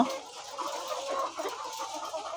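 White layer hens on a poultry farm cluck softly and continuously, a low murmur of several birds at moderate distance with no talk over it.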